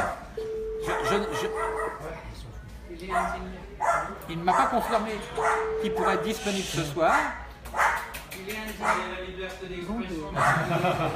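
A dog barks in the background of a French radio broadcast studio, intermittent yaps under continuous talk from people speaking over the line.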